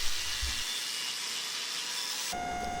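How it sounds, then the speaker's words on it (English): An angle grinder works the sharp edges off a twist Damascus steel billet in a forge shop: a steady, loud, hissing abrasive whine runs throughout, with a low thump near the start and a tonal rise in pitch near the end. "Then I use the angle grinder to remove all the sharp edges."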